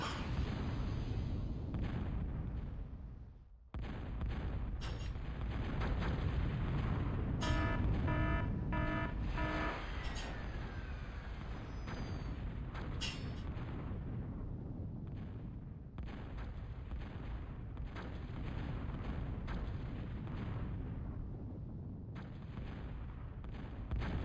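An artillery bombardment in the real-time strategy game Total Annihilation: Core Contingency rumbles on without a break, with heavy booms, bursts of rapid firing and high electronic unit tones over the barrage, and no voices.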